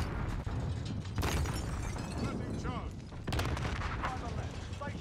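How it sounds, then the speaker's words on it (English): Explosions and gunfire in the Warzone video game, with heavy booming blasts and crackling bursts rolling through several seconds, loud and dense, while players talk over the action. "explosion."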